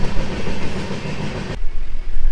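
North East Express passenger train rolling along the line, a loud rumbling roar with rail clatter that suddenly drops in the upper range partway through, leaving a lower muffled rumble.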